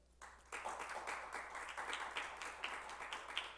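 A modest round of hand clapping at a public assembly breaks out after a brief pause, with individual claps still distinct as it builds and carries on at moderate volume.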